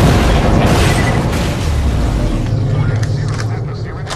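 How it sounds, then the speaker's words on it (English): Detonated charges explode in Borderlands: The Pre-Sequel, a loud, rumbling blast that starts at once and trails off into debris and crackle, with voices talking over it. "Detonate the charges, now!"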